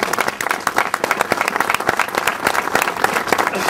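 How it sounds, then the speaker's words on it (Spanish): Audience applause at a Spanish event honoring Cuban brigade volunteers of the Spanish Civil War, a dense, steady clapping from a large crowd filling the whole stretch without pause. "Pido un aplauso para ellos."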